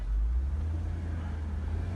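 An armored 2009 Mercedes G500 drives along, its low engine and road rumble a steady, loud drone from inside the cabin with no voices.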